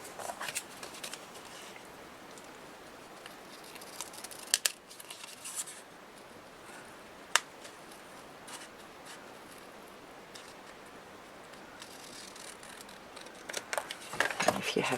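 Scissors snip around handmade paper Christmas gift tags, a quiet run of crisp cuts with a few sharper clicks and rustles of paper, close by and without speech.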